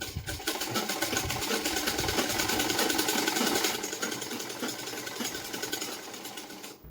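Sewing machine runs a fast, even stitch along the center seam of an elastic waistband on a ladies' loose-fitting pant, loud and continuous, then stops abruptly at the end.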